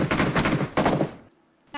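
Rapid automatic gunfire in a shooter video game: two dense bursts of close, loud shots, the second cut short and trailing off into a quiet tail.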